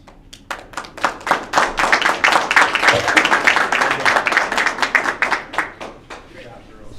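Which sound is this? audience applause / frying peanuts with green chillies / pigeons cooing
audience applause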